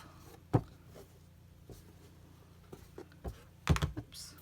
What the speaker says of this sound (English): Oops, glue falling over.